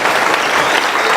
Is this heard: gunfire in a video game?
no